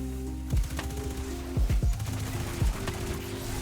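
Gunfire at a servitor in Destiny, several separate shots and short bursts, each with a descending zap-like tail, layered over sustained game tones and a steady hum.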